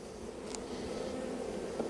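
Honey bees buzzing around a hive during a honey harvest, a soft continuous drone close by with faint shuffling in the background.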